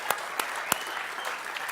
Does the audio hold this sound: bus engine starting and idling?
no